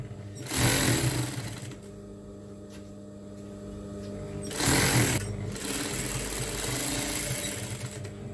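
A sewing machine hems apron fabric in close, loud bursts: a strong whirring run near the start and another around the middle, with a quieter mechanical hum continuing between and after them.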